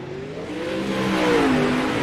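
Sprint car engines from the iRacing game, 360 sprint cars warming up on a short high-banked track at Federated Auto Parts Raceway at I-55. A loud, steady engine drone climbs slightly in pitch as the cars rev together.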